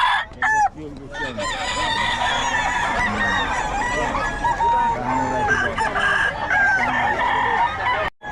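Several roosters crow loudly and repeatedly, overlapping with clucking chickens close by, a busy poultry yard chorus in Bocaue, Philippines, with a voice faintly mixed in.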